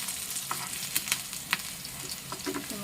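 Chilli, ginger and garlic sizzle in hot oil in a pan for dahi tikhari as a spoon stirs them, giving a steady frying hiss with light scraping taps, close and without speech.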